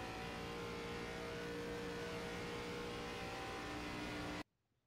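An ARCA stock car in the iRacing sim at Charlotte roars steadily at high revs under acceleration, a loud continuous engine drone that cuts off abruptly near the end.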